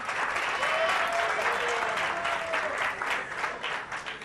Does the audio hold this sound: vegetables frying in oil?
no